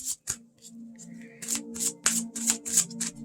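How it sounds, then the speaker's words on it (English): A tarot card pulled from the deck and laid down during a tarot game, with soft papery flicks and slides and light taps of card against card, close and fairly quiet. "we're just going to pull a card and place it on there and see what happens"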